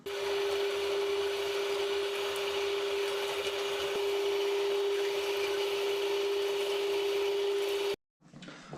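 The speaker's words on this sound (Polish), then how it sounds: "te najtłustsze kawałki miele właśnie na tym sitku" Meat grinder mincing the fattiest pieces of pork through a size-5 plate for juniper sausage: a steady, loud grinding whir with a constant motor hum throughout, cutting off abruptly near the end.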